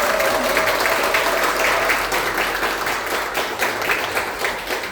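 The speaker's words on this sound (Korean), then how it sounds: "한 분 한 분 소개할 때마다 큰 박수로 환영해 주시기 바랍니다" Applause from an audience welcoming panel guests at a political debate forum, steady moderate clapping for several seconds, slightly distant, with faint talk underneath.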